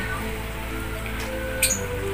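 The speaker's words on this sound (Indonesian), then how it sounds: "minggu pagi ini di sini di tempatku itu hujan. Ini lagi hujan." Steady Sunday-morning rain in a garden in Pancawati, a constant even hiss of drops falling on surfaces, with no talk over it.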